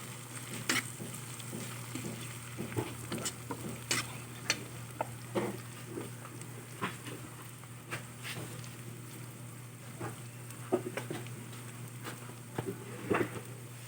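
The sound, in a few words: stirring blended garlic and chili into chili oil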